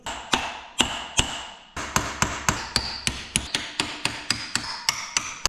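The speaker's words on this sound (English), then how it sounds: "So I'm just gonna work my chisel in behind the spindle." A hammer drives a chisel in behind the spindle of a GM 10 bolt front axle during teardown: sharp metallic strikes, close and loud, first spaced out and then in a fast, even run of blows.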